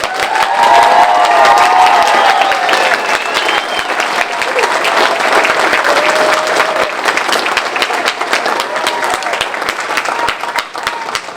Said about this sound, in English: I thought maybe we could clap just a little bit louder